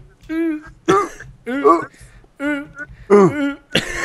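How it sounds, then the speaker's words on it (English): Several rough throat-clearing coughs come in quick bursts, close and fairly loud, separated by short pauses, about five in a row. "If you guys are wondering why I'm coughing"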